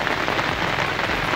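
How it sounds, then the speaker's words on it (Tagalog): Steady rain pours down at an outdoor fishing spot, a dense continuous hiss of drops striking surfaces, loud and close with no voices. "Nabutan tayo ng ulan sa spot natin katiksay."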